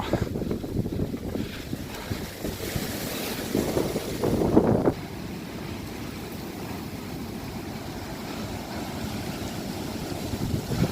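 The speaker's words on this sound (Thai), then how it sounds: "ลมแรงมากครับ" Strong wind buffets the microphone high on a mountain stairway, roaring and rumbling steadily with a louder gust partway through before settling into a constant rush.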